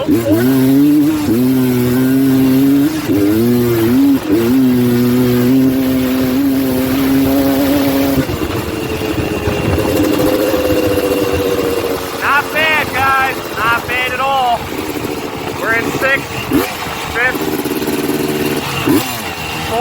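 Honda TRX330R ATV engine running steadily while being ridden through the gears, a loud continuous drone whose pitch rises and shifts, with someone talking over it at first and faint higher whines later.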